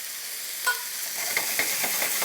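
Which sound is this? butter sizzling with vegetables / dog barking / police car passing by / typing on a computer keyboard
butter sizzling with vegetables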